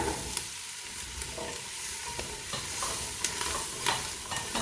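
Carrots and potatoes sauté in a pressure-cooker pot, a steady close sizzle broken by occasional scrapes and taps of a stirring utensil, with no talk.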